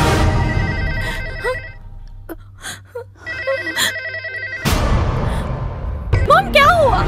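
A telephone bell rings in repeated bursts indoors, the rings broken by short pauses, with tense voices and a gasp in between.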